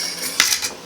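A metal utensil pokes at baked pears with walnuts and maple syrup in a baking dish. It makes a few quick, close clinks and taps against the dish in under a second.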